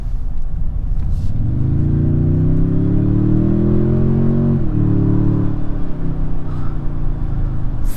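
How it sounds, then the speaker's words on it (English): A 2024 Toyota Tundra TRD Pro with a 3.4-liter twin-turbo hybrid V6 accelerates onto a highway, its engine roar climbing steadily in pitch, dipping briefly at a shift, then pulling on loud and close from inside the cab. "Listen to this engine roar here."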